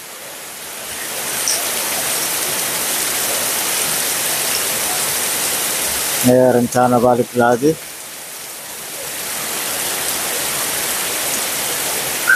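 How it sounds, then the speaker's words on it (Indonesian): Heavy rain pours steadily on the road between Manggarupi and Samata, Indonesia, a dense unbroken hiss; someone speaks briefly in the middle while the downpour continues around him. "kita mendapat berkah dengan turunnya hujan"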